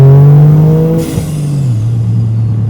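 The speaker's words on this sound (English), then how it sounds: "We haven't even put a blow-off valve on it, but you still get all the nice suck noises" A GR Corolla engine with an aftermarket intake and no blow-off valve revs loudly and steadily, then the pitch drops as the throttle lifts, leaving a lower sustained drone; no voices are heard.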